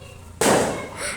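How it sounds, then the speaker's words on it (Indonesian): After a brief quiet moment, a single New Year's firework bursts with a sharp crackling boom that fades into a hissing tail, heard from a short distance. "Itu suara kembang api."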